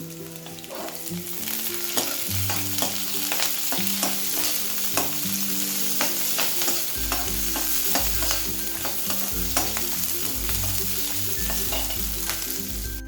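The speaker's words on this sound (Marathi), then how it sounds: "हाय वरतीच आपण परतून घेणार आहोत आता आपण ऍड करूया शिमला मिरची" Chopped capsicum stir-fried on high heat for cabbage Manchurian, a loud continuous sizzle with repeated sharp scraping and tossing of a spatula against the pan, no voices.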